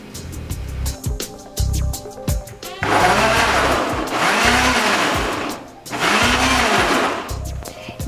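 A kitchen blender purees potato cream with broccoli and spinach in loud bursts, its motor whirring steadily with surges and dips, alone without talk.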